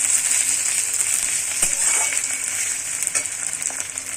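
Ginger garlic paste sizzles and fries loudly in hot oil for a fish curry, a steady bright hiss with a few soft stirring scrapes close by, no voices.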